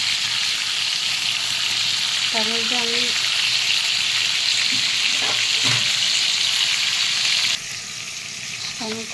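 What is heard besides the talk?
food frying slowly in a pan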